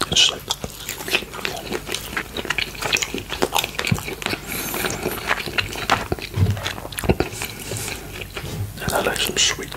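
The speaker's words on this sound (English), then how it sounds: "Outside a bit crunchy, soft inside." Close, crisp bites and crunchy chewing of an oven-baked chicken thigh seasoned with pepper, turmeric and salt, crunchy outside and soft inside, with repeated sharp crackles amid soft mouth sounds and breathy whispering.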